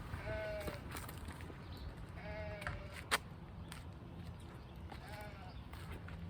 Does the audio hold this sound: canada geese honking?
no